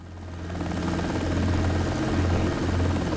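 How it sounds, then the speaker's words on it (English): A helicopter in the X-Plane 12 flight simulator settles onto the ground, its steady rotor and engine drone holding loud and even throughout, with a low throbbing hum and no voices. "The helicopter will come down on its own."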